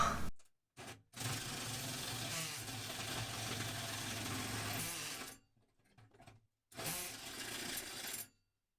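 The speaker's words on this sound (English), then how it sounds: "We are using a 2 5/8 inch hole saw bit." A power drill drives a 2 5/8 inch hole saw bit through a panel to fit an exhaust tip: a loud, steady grinding whir in two long bursts, with a brief quieter gap between them and short stops before and after.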